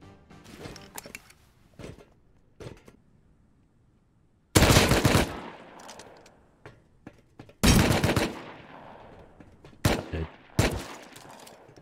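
Video game shootout with loud bursts of automatic gunfire at intervals, longer sustained volleys, and quieter scattered shots and clicks between them, with no talk over it.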